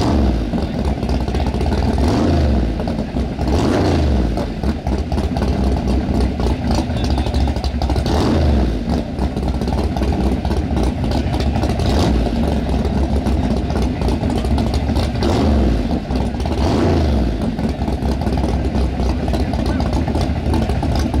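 At a street race, a car's engine revs hard again and again in loud, rising and falling surges during a burnout, close and continuous, with crowd voices mixed underneath.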